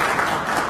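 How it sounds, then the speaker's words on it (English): Audience applause at a Jerusalem mayoral candidate event, a short dense burst of clapping from many hands, steady and close throughout. "Applause."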